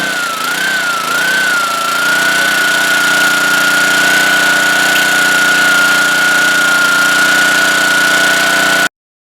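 A Homelite pressure washer's petrol engine catches and settles into a steady, loud running drone with a high whine above it. The pitch wavers briefly at the start, then holds even until it stops abruptly.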